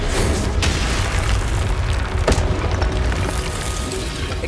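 Confringo explosive spell blasts in Hogwarts Legacy, loud rumbling booms with sharp bursting cracks over a steady roar of game ambience, several impacts spread across a few seconds.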